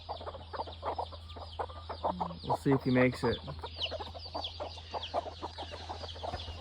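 Hens, chicks and a red rooster clucking and chirping in a free-range flock, a steady busy chatter of short calls close by, with someone talking briefly over them.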